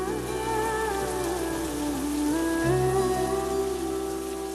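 Steady rain falls on surfaces in a continuous, even hiss, accompanied by sustained tonal background music.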